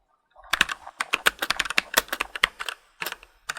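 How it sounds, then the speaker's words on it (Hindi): Key presses on a CosmicByte CB-GK-11 budget mechanical keyboard, a quick run of crisp, fairly soft clicks typed close up in irregular bursts, with a short pause before a few final taps. "नेक्स्ट कीबोर्ड का की प्रेस साउंड सुन लेते हैं।"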